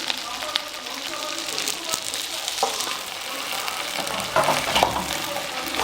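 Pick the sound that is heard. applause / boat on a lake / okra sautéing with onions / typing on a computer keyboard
okra sautéing with onions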